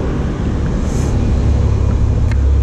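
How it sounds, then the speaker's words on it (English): A car driving past on Bree street, a loud close low rumble of engine and tyres that swells slightly toward the end, with a faint high whine and brief ticks over it. "I'm just gonna try and get a slow shot of a car coming past"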